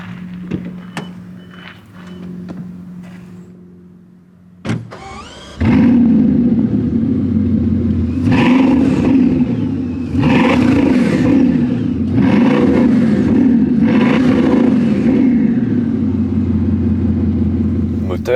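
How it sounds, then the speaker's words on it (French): A Bugatti Chiron Super Sport's 1600 hp engine starts with a sharp burst and settles into a loud, steady low idle, with a few rising revs swelling on top and faint clicks before ignition. "Le moteur est sur son ralenti bas."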